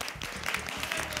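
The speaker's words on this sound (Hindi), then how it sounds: "तालियां होनी चाहिए ख़वातीन हज़रात" Studio audience applause at a televised cricket quiz show, dense steady clapping from a crowd, continuous and fairly loud for the whole moment.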